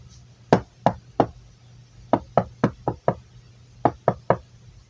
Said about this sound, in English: He knocks.